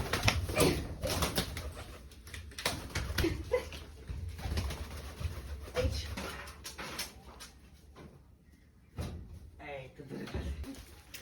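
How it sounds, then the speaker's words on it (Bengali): Pigeons coo softly while a person talks almost continuously nearby. Scuffling handling noises and a few sharp knocks are mixed in. "গাইস একটা কবুতর কিন্তু আমার হাতে।"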